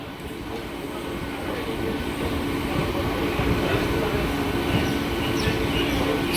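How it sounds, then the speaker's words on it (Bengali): A morning Ranaghat–Shantipur–Krishnanagar–Amghata local train pulls out of the Shantipur Junction platform, a loud continuous rumble of wheels and carriages that builds slightly, with faint rail squeals and clatter. "শান্তিপুর রেল স্টেশনের প্ল্যাটফর্ম থেকে ছেড়ে যাচ্ছে ট্রেন।"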